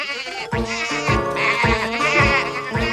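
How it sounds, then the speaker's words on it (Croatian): Cartoon sheep on a farm bleat over and over in a quick, overlapping chorus of wavering baa calls, loud and close, with no talking. "Provjerio sam ovce, Tome."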